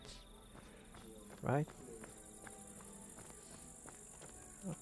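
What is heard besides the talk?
procedurally generated insect sounds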